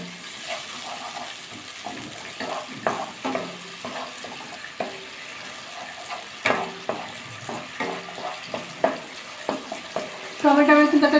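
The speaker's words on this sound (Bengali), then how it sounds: "মশলাটা কষিয়ে নিতে হবে ভালো করে।" Spice masala with tomato is stir-fried for a cauliflower dish, a soft sizzle under rhythmic spatula scrapes and taps on the pan, ending in a louder burst of bubbling.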